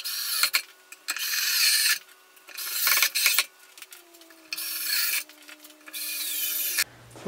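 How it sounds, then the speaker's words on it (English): Screws driven with a power drill into pocket holes on a clamped wooden toy box, several close bursts of whirring drilling separated by quiet pauses, the last run ending with a low rumble. "it's time to put the screws into the pocket holes"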